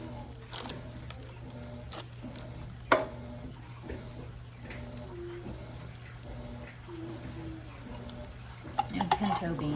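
Canned kidney beans and diced tomatoes tipped into a cooking pot, with scattered clinks of metal and utensils against the pot over a steady background hum, moderately close and fairly quiet.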